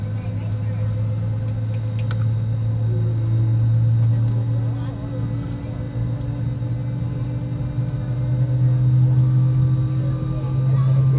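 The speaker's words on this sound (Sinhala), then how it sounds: "නිකන් ජෙට් එන්ජින් එක ගන්න ඒක අර එයා කම්ප්‍රෙෂන් එකකට සිද්ධ වෙලා ටිකක් කනට අමිහිරි ශබ්දයක්" A loud, steady low drone with a constant tonal hum swells slightly and fades: an airliner jet engine's compression noise heard from inside the cabin on a Hanoi to Bangkok flight.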